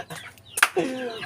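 A chicken clucks in a few short, close calls within a brief moment, with a faint voice nearby.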